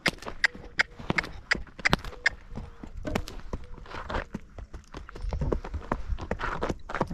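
A Rocky Mountain Horse trots over poles on an uphill stretch, its hooves clopping in a quick, uneven rhythm close by.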